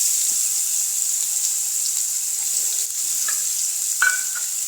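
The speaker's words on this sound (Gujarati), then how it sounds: "અને તેની સાથે આપણે આ કાપેલી ડુંગળી નાખી દઈશું." Chopped onion sautéing in a little oil, a steady bright sizzle that holds throughout, with a few faint clinks of stirring close by.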